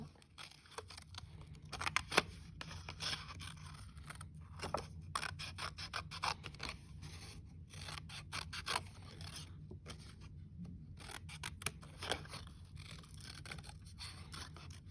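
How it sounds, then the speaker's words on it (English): Paper parts being cut out by hand with scissors, a steady run of snips and soft scraping strokes that continues throughout, close and fairly quiet over a low background hum, with no talking. "I'm going to cut down cut these parts out"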